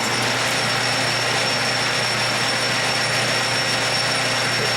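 A metalworking machine runs in fourth gear at 270 RPM cutting metal on an ER32 hex fixture, giving a steady, loud mechanical hum with a constant low tone and a high whine, unbroken and with no talking.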